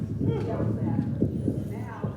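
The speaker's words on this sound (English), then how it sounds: "I know there's a horse there." A horse walks nearby with hooves clip-clopping in an uneven rhythm, moderately close, under steady talking from people.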